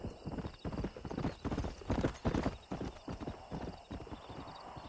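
Horse hooves in the Red Dead Redemption video game, a steady clip-clop gallop on a stallion with a whinny, fairly close and alone with no talk.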